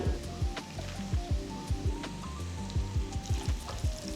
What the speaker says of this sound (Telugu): ఉల్లిపాయ కాస్త వేగిన తర్వాత జీడిపప్పులు వేసి వేయించుకోవాలి